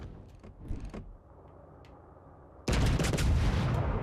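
Naval guns fire in the World of Warships naval battle game: a few muffled distant booms come first, then a sudden loud, dense burst of heavy gunfire that keeps rumbling to the end, with no voices.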